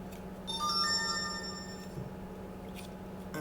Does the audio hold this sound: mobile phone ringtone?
yes